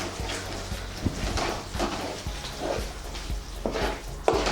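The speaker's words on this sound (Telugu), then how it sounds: "ఇప్పుడు ఇందులో కారపొడిని కలిపి మిక్స్ చేద్దాం." A spoon stirs chili powder into sizzling fried ginger-garlic paste for an Andhra prawns pickle, a steady soft frying hiss punctuated by repeated scraping knocks against the pan.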